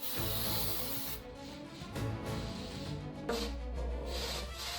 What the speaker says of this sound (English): so Dasha sprays my entire room with anti-mosquito spray.